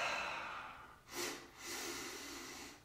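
Breath released slowly during a seated chair yoga stretch, a soft airy exhale heard close and alone, rising briefly and then trailing into a steady hiss.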